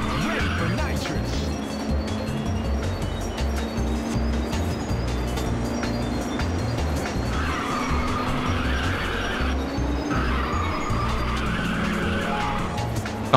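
Ridge Racer on PSP during a race with a nitrous boost, a continuous loud engine roar with squealing tire skids and a rising whine in the second half, a voice briefly over it.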